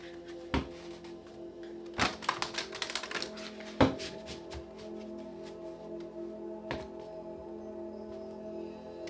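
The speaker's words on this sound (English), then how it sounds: "One more shuffle." Tarot cards are shuffled and tapped in irregular bursts of sharp clacks and softer slides, close up in a quiet room.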